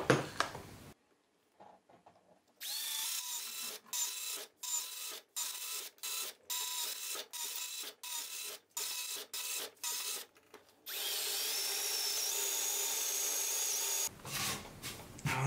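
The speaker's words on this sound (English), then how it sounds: "I'm gonna drill all the little holes and then I'm gonna go in with this one." A drill bores a series of small holes into wood for a handmade TV stand, with repeated short bursts of whirring and cutting. A longer continuous run of the drill follows near the end.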